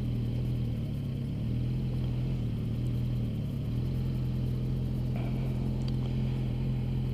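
A farm truck rolls by with a steady low engine drone and tonal hum, fairly close and continuous, without speech.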